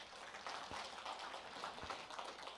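An audience of leaders at a Rotary lecture gives a faint, distant round of applause, a continuous patter of many hands clapping with a few sharper claps standing out.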